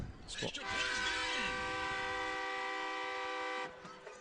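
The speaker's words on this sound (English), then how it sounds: "they got one of those annoying train horns" An air train horn sounds at a high school football playoff game, one long sustained multi-tone blast lasting about three seconds, loud over faint crowd noise.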